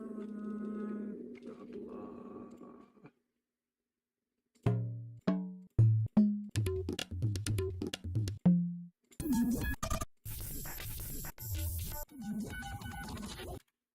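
Tabla sample from the Ableton stock library: a sustained tone fades into silence, then a run of sharp resonant drum strikes with pitched ringing decays, followed by dense rapid hits, close and loud.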